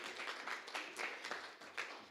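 A church congregation claps in celebration of a campus anniversary, a faint, quick patter of hands with a loose, uneven rhythm and no voices.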